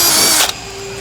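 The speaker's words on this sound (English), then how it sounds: "we want to switch over to our 11mm drill bit, make the hole a little bit larger" A power drill fitted with an 11mm bit widens a hole for a jack nut while fitting a splitter kit to a 2018-2020 Hyundai i30N hatch. It runs loud and steady, then cuts off abruptly midway, leaving a quieter hum.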